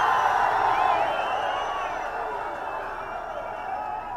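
A large crowd at a political rally in Thuraiyur keeps up a sustained roar of cheering voices with whistles and whoops, fairly distant and easing slightly over a few seconds.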